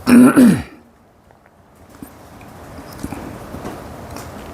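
One short, harsh throat clearing up close, then quiet room ambience with faint background noise.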